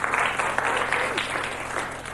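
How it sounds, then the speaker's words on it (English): Studio audience of a TV pop music quiz show applauds: dense, loud clapping that holds steady and slowly tapers over a couple of seconds. "I thought a little more storming applause for that wonderful reply there."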